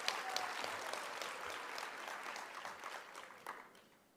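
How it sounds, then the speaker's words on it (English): Sustained applause from a summit audience at a social sector keynote event, dense steady clapping filling the whole stretch and tapering slightly at the end, with no talking over it. "And give yourself a round of applause."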